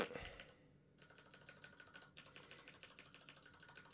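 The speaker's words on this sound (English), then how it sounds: "I was typing out the whole full thing." Steady, quiet typing on a computer keyboard while coding, a continuous rhythmic run of soft key clicks after a brief louder knock at the start.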